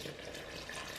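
Tap water runs in a steady, close hiss while 638 grams of water are measured out for a fifty-fifty sourdough loaf, brief and moderately quiet.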